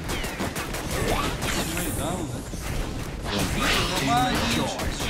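Gunfire in the video game Orion: Prelude, repeated shots and impacts crackling through a busy battle mix while people talk over it throughout.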